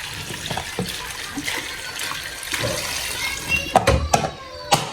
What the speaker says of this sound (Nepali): पानी डालते हैं